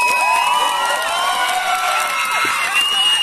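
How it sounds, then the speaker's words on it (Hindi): Crowd at a Christmas celebration stage show cheers, whoops and shouts for a young child performer, a dense continuous roar of voices with some clapping sustained throughout. "A huge round of applause once more time."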